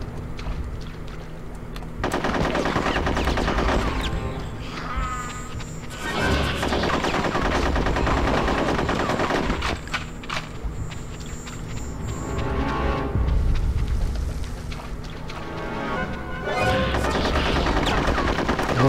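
Machine gun fire rattles in long, loud bursts in the video game Conker's Bad Fur Day, sustained streams of rapid shots broken by brief pauses, with music and effects mixed underneath.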